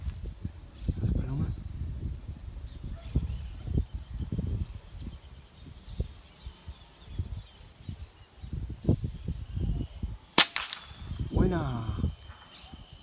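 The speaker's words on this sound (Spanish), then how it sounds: "Ahí va a tirar mi amigo." A FOX PR900 air rifle fires a single sharp crack about ten seconds in while hunting viscachas and doves outdoors, preceded by rustling, low handling noise and quiet voices in the background.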